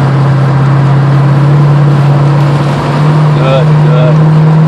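A Mercedes-AMG C55 engine runs at full throttle on the Summit Point race track, a loud, steady, close engine drone with a brief voice heard near the end.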